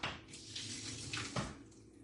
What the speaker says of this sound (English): I'm going to drain these before I put them in.